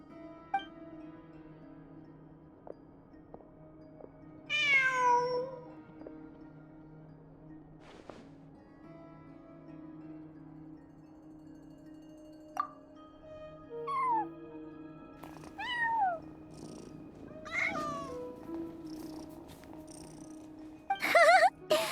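A cat meows and purrs in the video game Genshin Impact, several short rising-falling meows spread over a low steady purr and soft background music.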